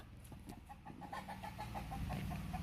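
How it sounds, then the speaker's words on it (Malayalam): A rooster clucks in short repeated bursts, fairly close, over a steady outdoor background with no talking. "ഞങ്ങളെ വീട്ടിലെ പൂവനാണ് അയലത്തെ വീട്ടിൽ നിൽക്കുന്നുണ്ടോ?"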